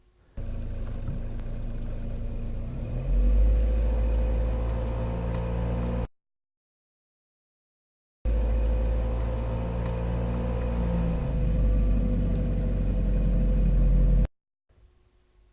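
Car engine held at a gentle rev while the clutch is brought to its biting point, a steady mid-pitched drone with a low rumble that swells slightly, broken by a silent gap, heard up close without speech.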